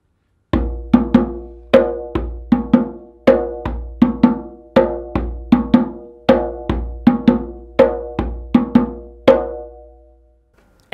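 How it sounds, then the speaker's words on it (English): Kuku rhythm played on an untuned djembe, a steady run of close, loud hand strikes in a repeating pattern, duller and less distinct between bass, tone and slap, with no talking. "the same cuckoo rhythm played on a djembe that's not tuned."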